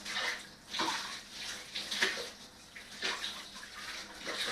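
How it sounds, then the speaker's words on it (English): Hot tap water running over a knife as it is rinsed, a splashing stream with uneven surges and pulses as the blade moves through the flow, no talk. "I'll rinse this off with hot water."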